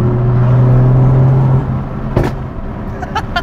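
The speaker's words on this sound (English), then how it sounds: "If you let off the gas in like pretty much any part of the rev range, gosh, so loud." Loud exhaust from a car as the driver lifts off the gas, a strong droning engine note heard from inside that drops away after a second or so, followed by sharp popping crackles and rumble.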